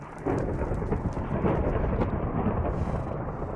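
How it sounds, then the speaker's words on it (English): Thunder in the Minecraft modpack SevTech: Ages of the Sky, a loud, sustained rolling rumble that starts abruptly and stays heavy throughout, with a rain-like hiss beneath and no talking. "That thunder is loud."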